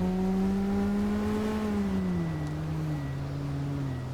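Race car engine in a racing game holds a loud, steady revving drone that sags gradually in pitch as the throttle eases, with no talk over it.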